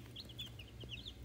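Young Wyandotte meat-bird chicks, a first home-hatched batch sired by a Bielefelder rooster, give a string of soft, high peeping clucks over a low background hum, faint and close.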